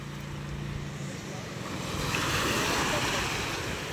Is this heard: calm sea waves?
yes